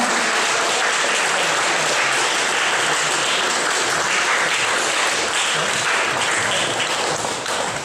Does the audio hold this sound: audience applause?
yes